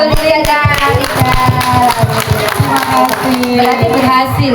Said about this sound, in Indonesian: tepuk tangan buat Julia dan Alisa